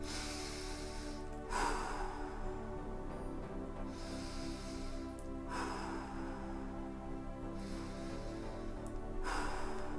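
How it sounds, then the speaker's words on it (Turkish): Slow, rhythmic breathing exercise: long drawn breaths repeating evenly, heard up close over a soft, sustained musical drone. "ritmik nefes alıp verin"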